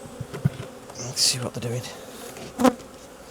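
Honey bees buzz around an open hive during a beekeeping inspection, a close, shifting drone with individual bees zipping past the microphone, while a person briefly speaks and equipment gives a few soft knocks.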